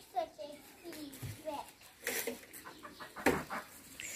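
Chickens cluck and squawk nearby, mixed with a voice and other talk in the background.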